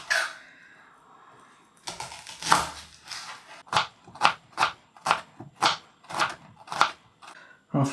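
Knife chopping a small red onion on a cutting board while preparing a Thai beef salad: a steady run of about a dozen sharp, close, evenly spaced chops, loud and alone.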